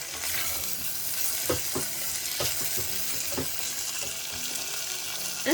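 Chopped onion and half a cinnamon stick fry in a pot for a meatball tajine, a soft steady sizzle broken by several sharp stirring clinks and scrapes, with no voices.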